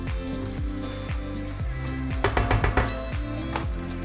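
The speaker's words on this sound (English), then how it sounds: "as our jalapenos, onion, bacon, and garlic are all cooking off" Jalapenos, onion, bacon and garlic sizzle in a pot of beef chili. There is a steady frying hiss, rhythmic scraping knocks from stirring about twice a second, and a brief burst of sharper clatter midway.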